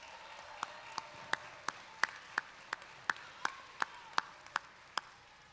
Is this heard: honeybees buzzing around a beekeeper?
no